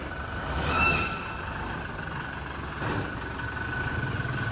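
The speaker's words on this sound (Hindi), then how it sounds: "गाड़ी आ गई है हमारी शोरूम से बाहर।" A Toyota Hilux pulls out of a showroom, its engine a steady mid-range rumble that swells briefly near the start and again toward the end, heard alone without talk.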